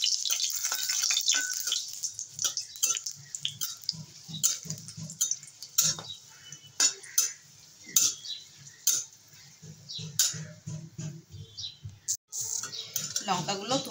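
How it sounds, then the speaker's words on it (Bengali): Dried red chillies crackle and sizzle in hot mustard oil in a wok, a steady frying hiss broken by frequent sharp spatters and clinks of a utensil, close and fairly loud. "তেল গরম হয়ে গেছে, শুকনো লঙ্কা ভেজে নেব।"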